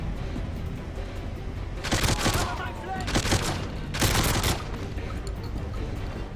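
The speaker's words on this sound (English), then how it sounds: "You have a fully automatic shotgun." A Masterton fully automatic shotgun firing in a video game, set in Nigeria: three bursts of rapid, loud blasts each about half a second long, over a steady background rumble with some talk.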